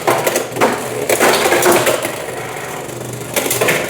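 Beyblade X tops clashing and scraping in a stadium, a loud close grinding rattle with repeated sharp hits as the spinning tops collide.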